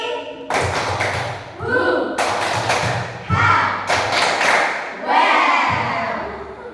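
Group rhythmic clapping for a 'tepuk semangat' cheer at a school practical exam, sharp patterned bursts of claps in several sequences separated by short pauses, with voices chanting along.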